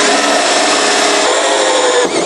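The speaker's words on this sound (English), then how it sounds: "we're going to be drilling our hole, which we predetermined from the hole in the back of our cistern" A power drill with a standard 50mm hole cutter bores through a wall for a toilet ventilation pipe, a loud continuous grinding whine that runs steadily before dipping briefly near the end.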